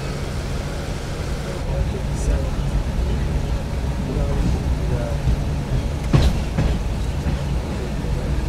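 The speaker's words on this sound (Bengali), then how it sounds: "ট্রেন এখন এসে পৌঁছালো অনন্তনাগ রেলওয়ে স্টেশন" A crowded train pulls into Anantnag railway station in Kashmir on a snowy day, a loud steady rumble with wheel clatter and squeals, and voices murmur around it.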